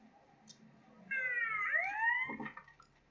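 A short, wailing police siren in Grand Theft Auto: Liberty City Stories sweeps up and down once, fairly clear against a quiet background.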